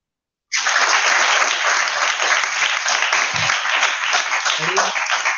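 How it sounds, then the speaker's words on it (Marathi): Classroom of students clapping together in sustained, loud applause that starts abruptly and continues steadily, with a brief low voice murmuring underneath near the end. "दुर्वांसाठी सगळ्यांनी टाळ्या वाजवा"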